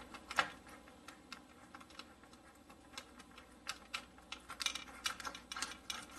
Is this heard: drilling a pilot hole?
yes